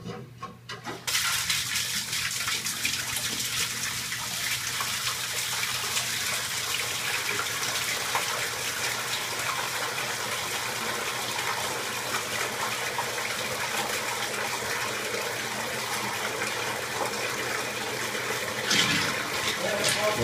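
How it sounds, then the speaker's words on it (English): Aquarium water from a 300-gallon tank gushing steadily into a laundry sink, a loud, constant broadband rush of flowing and splashing water that runs almost unchanged from start to finish. "I'll continue filming when the water is flowing into my laundry sink."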